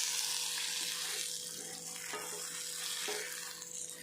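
Pomfret rava fry frying in a pan on medium flame, giving an even, soft sizzle throughout with no talk.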